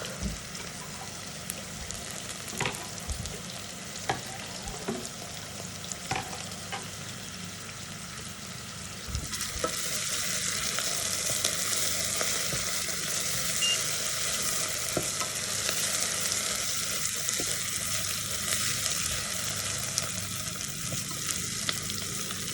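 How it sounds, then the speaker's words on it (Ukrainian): Onions frying in a pan and being stirred, a steady sizzle with scraping utensil clicks, growing louder and fuller about halfway through, with no talking. "Цибулька так, треба гарненько підсмажити, щоб вона була наполовину готова."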